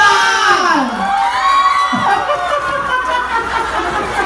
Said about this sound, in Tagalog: Palakpakan namin kasamang hiyawan for candidate number 1!